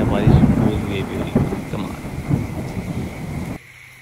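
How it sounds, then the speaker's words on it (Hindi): Heavy rain pours steadily at a farmhouse at night while thunder rumbles low and rolling, the loudest crack near the start, with voices murmuring beneath before the sound cuts off abruptly near the end. "फुल तेज बारिश हो भी था"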